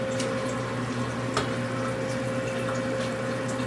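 Canned pineapple going into sweet and sour sauce boiling on the stove for sweet and sour pork, a steady bubbling, sizzling wash with a constant low hum and a few soft splashes.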